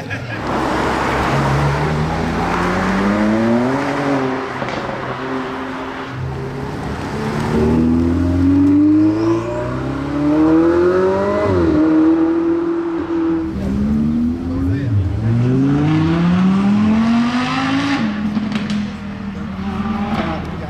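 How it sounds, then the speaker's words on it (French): A loud BMW M3 G80 with a Capristo exhaust revving and roaring from a distance, pitch rising and falling through several gear changes, with voices faintly underneath. "on se rend mieux compte du bruit de loin. On va regarder effectivement, c'est un échappement Capristo."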